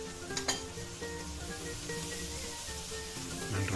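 Onions and leek sizzle steadily in hot oil at close range, with a spoon or spatula scraping and clinking against the pan as they are stirred.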